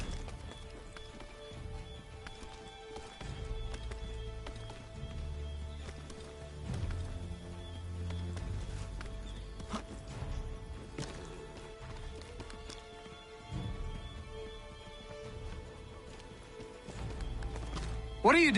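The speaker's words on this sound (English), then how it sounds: "Get back on the horse, Connor." Horse hooves clip-clop and gallop in the video game Assassin's Creed 3 Remastered, a fairly quiet rhythmic patter that builds and fades over ambient game sounds.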